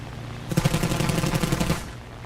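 German aircraft guns in War Thunder air arcade fire one rapid, steady burst of about a second, loud and mechanical, standing alone over a quiet engine hum.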